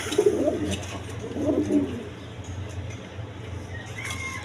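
Domestic pigeons kept for sale coo close by in two soft, throaty phrases over a low steady hum.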